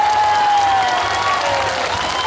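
Festival crowd applause at the Gangjin Celadon Festival in Korea, dense continuous clapping and some cheering heard close and loud from start to finish.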